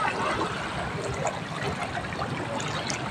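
Gentle sea water at a calm Cebu shore, a steady soft wash and trickle of small waves lapping continuously without pause, moderately near and alone with no voices.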